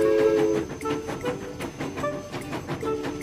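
A cartoon toy train carrying balls in its cars rolls steadily along, a continuous rumbling run with faint rhythmic clatter and brief tonal whistle-like notes.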